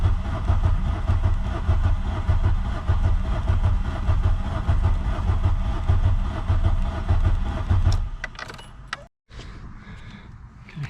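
A Volkswagen engine that is not getting fuel cranks continuously in a loud, rumbling drone, then stops, followed by clanks and quieter handling noises.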